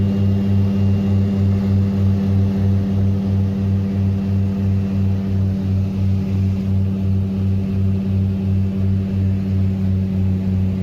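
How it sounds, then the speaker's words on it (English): A propeller airplane lands at Talcha Airport in Nepal, its engine giving a loud, steady droning hum with a fast pulsing beat that holds unbroken throughout. "This beautiful landing is from Talcha Airport in Nepal."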